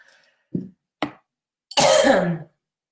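A couple of short throat-clearing coughs, then a longer, harsher cough burst, close and isolated against silence.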